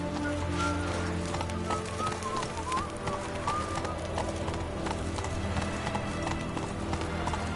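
Roach, a horse in the video game The Witcher 3: Wild Hunt, gallops with a rapid, continuous clip-clop of hooves, loud and close, over dense ambient game sound with birds faintly audible.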